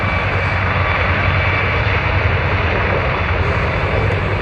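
A CH-53 Super Stallion, the Marine Corps' large heavy-lift helicopter, flies at an airshow, giving a loud, steady, broadband engine-and-rotor roar that holds constant throughout without any talk.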